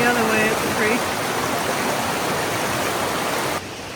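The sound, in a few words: creek on the Thunder Knob Trail, North Cascades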